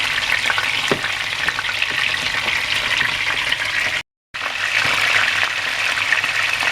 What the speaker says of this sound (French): Maintenant, on le fait frire dans l'huile qui nous a servi de frire les bananes plantain tout à l'heure.